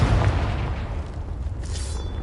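A Confringo blasting spell detonates in the video game Hogwarts Legacy, a deep booming explosion hitting hard at the start and rolling off into a rumbling decay.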